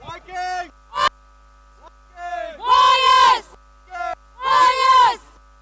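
VW Army fans cheer at a cricket match, raising two loud sustained crowd shouts with short vocal bursts between them, over a steady electrical hum.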